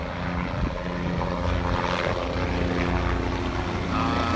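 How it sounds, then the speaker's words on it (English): A helicopter flies overhead at a brush fire in Venice, a continuous loud rotor and engine drone that holds steady throughout with no one talking. "And here comes the helo again."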